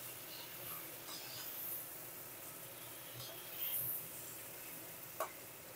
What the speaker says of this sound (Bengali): গ্যাসের ফ্লেমটা জোরে দিয়ে ঝিঙেগুলো ভেজে নিতে হবে।